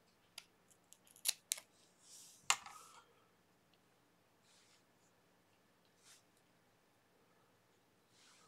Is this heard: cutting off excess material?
yes